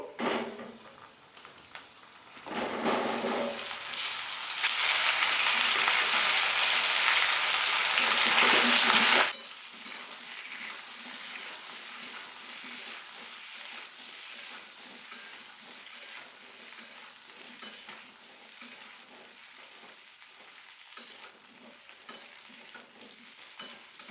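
Fenugreek, fennel seeds, dried chillies and asafoetida dropped into hot oil for a pickle tempering, a loud, bright sizzle that flares for several seconds, then settles into a quieter crackle while being stirred.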